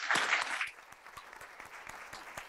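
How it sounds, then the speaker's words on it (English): A lecture audience applauds after a talk on justice for animals, a short burst of clapping that quickly thins into a few scattered, fading claps. "Please give her a round of applause."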